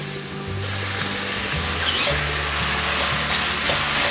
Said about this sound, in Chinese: 现在放入高丽菜，快速翻炒